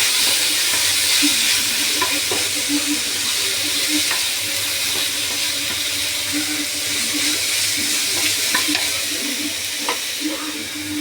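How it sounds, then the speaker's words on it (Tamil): Tomatoes sauté in a pan on a home stove, with a soft steady sizzle and occasional stirring clicks and scrapes under a faint background hiss, and no talking. "இப்போ தக்காளி நல்லா வதங்கட்டும்."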